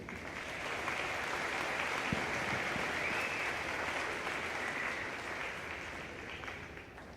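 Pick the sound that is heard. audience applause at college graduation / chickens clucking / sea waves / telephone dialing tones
audience applause at college graduation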